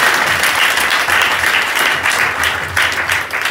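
A church congregation at an outdoor mission gathering in Nyamira claps loudly together, a dense, continuous burst of applause with rhythmic swells, close and full.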